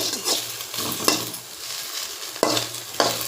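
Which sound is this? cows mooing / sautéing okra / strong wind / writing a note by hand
sautéing okra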